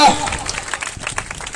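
A church congregation applauding at a Punjabi Christian healing service, a steady spread of clapping with voices mixed in and no single clap standing out.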